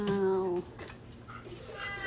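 A house cat meows loudly and close at the start, a long drawn-out harmonic cry, then softer faint calls follow over a quiet room, excited by the smell of mackerel.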